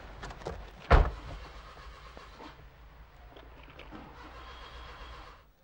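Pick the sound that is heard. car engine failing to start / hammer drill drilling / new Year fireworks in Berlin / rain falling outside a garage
car engine failing to start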